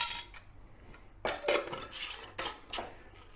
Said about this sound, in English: I'm going to grab my handy dandy lid